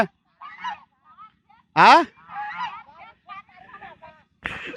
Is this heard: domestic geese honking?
yes